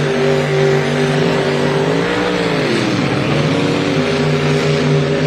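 A loud, droning hydroplane racing boat engine holds a steady roar during a San Diego Bayfair race heat, its pitch dipping and rising as it passes, with no voices.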